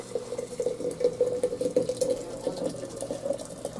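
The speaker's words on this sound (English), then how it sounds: "Let's add water to tea." Hot water poured from a kettle or pot onto tea leaves, a steady close splashing trickle with a ringing tone and uneven gurgling pulses, no talk.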